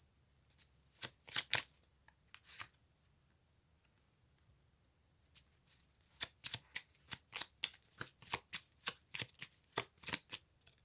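Cards shuffled for a card reading: a quick burst of crisp riffling, a pause of near silence, then a longer run of rhythmic, close, soft shuffling flicks.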